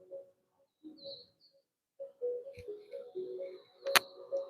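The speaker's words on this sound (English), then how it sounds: "noticing the sounds of the birds." Faint birds chirp and call intermittently in the distance, with quiet gaps and a sharp click partway through.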